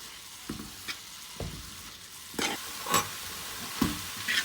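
Chicken spring roll stuffing with boiled chicken sizzles in a hot pan while a spatula stirs and scrapes it in several distinct strokes, close and steady, with no talking.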